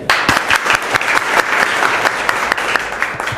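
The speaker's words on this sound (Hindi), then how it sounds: "ताली बजाइए।" A group claps loudly in a classroom-style exchange with a teacher, close and uneven, with distinct individual hand strikes punctuating a dense burst of applause.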